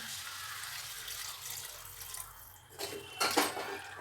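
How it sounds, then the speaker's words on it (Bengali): Hot water pours into a cooking pot of bottle gourd curry, a steady close splashing stream that fades and ends with a few louder sloshes and drips, with no talking. "জল গরম হয়ে গেছে এবার জল দিয়ে দিলাম"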